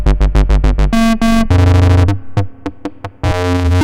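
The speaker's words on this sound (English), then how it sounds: "That's a sine wave into the CV2 input" Erica Black low pass filter modulated by a sine wave into its CV input, producing rapid pulsing synth tones that shift between choppy bursts and sustained buzzy notes, loud and alone.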